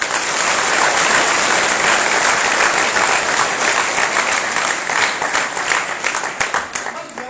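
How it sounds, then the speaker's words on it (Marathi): Loud, dense crowd applause from students at a motivational talk at a career academy in Baramati. It is sustained for several seconds, then thins into scattered individual claps near the end. "एक जोरदार टाळ्या."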